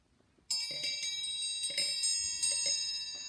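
A triangle struck a few times in a classroom, the first hit sharp and bright, then a few lighter taps, each leaving a long shimmering metallic ring with no talking.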